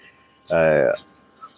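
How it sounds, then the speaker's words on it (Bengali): A young pigeon chick, about to be hand-fed, gives a single drawn-out whistling squeal lasting about half a second, close and fairly loud against a quiet room. "এই যে একটি কবুতরের বাচ্চা"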